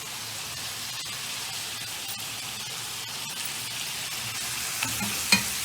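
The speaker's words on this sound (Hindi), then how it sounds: "बस इसको भून लेंगे हम इतनी देर तक जब तक ये चिकन का कलर चेंज नहीं होता" Chicken pieces fry in a pan, a steady, soft hiss that runs on evenly throughout, with a couple of faint utensil taps near the end and no voices.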